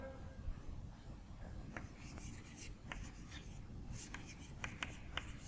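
A marker or chalk scratches out a few short strokes on a board during a Hindi-medium chemistry lecture on chemical bonding. The writing sits faintly over a steady room hum.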